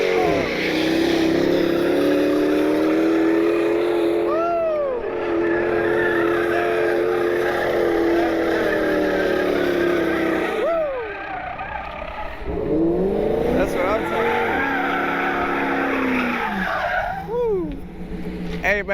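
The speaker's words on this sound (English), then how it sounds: "You gonna do some donuts or what?" Modified Honda Civic doing donuts, with a loud engine revving up and down and long rising and falling tire squeals repeating several times, a few short pauses between passes.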